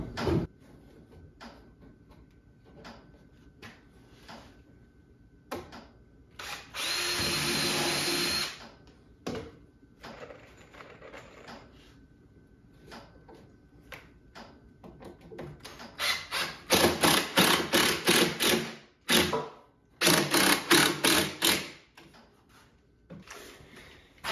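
A power drill driving 2.5-inch deck screws into a wooden outdoor grain feeder hopper, with short bursts of whirring separated by pauses and clicks, and a longer, louder run of rapid pulses near the end.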